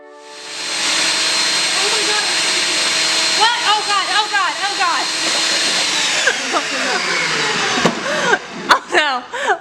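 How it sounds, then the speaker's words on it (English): Food processor blending pumpkin, a loud steady whirring motor drone that runs throughout, with people talking over it in the middle and end. "I feel like it's because it's a food processor."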